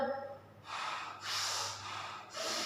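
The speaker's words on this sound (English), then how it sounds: "So this is the breathing." A person breathing in and out, several audible breaths in an even rhythm, close and fairly quiet.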